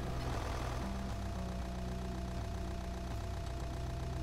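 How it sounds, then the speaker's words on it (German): Truck engine idling in Euro Truck Simulator 2, a steady low rumble with a faint knocking pulse, heard alone without voices. "Könnt ihr meinen Motor hören?"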